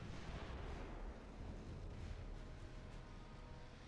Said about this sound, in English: Just dump every round you have left into the battleship.